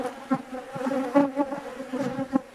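Honeybees from strong colonies buzz around their hives in summer, a loud, steady droning hum close by, pulsing as individual bees pass near.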